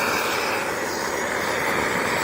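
A restored Primus 70 camp stove fitted with a new seal and jet burns at full power, giving a loud, steady, close roar that holds constant throughout.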